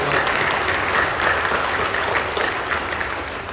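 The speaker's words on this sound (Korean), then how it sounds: "우리 사랑하며 격려하며 박수해 주십시오." A congregation at a Christmas Day service in Incheon Full Gospel Church applauds steadily, a dense, sustained clapping that fills the hall without a pause.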